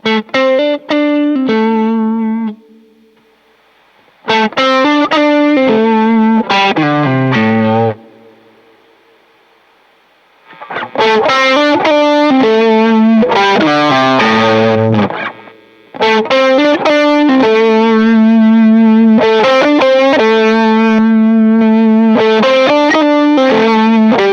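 Electric guitar through a two-stage overdrive pedal plays chordal phrases in bursts separated by short pauses, a crunchy distorted tone that rings clearly with no talking.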